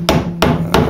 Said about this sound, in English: James is now tacking